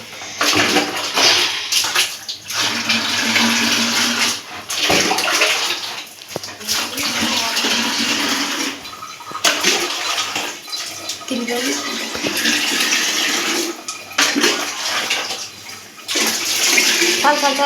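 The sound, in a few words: water poured from a jug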